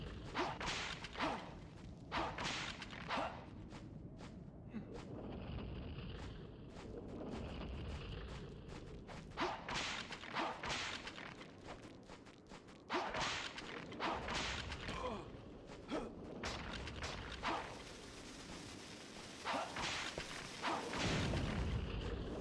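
Whip strikes and swishes from the Nintendo 64 game Castlevania 64, loud repeated lashing bursts mixed with game explosions and booms over a steady bed of game music.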